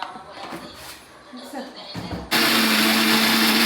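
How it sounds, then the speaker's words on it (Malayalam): An electric mixer grinder blends spices with curd for chicken shawaya, bursting on after talk into a loud, steady, high whine that runs to the end. "മിക്സിയിൽ അടിക്കാം"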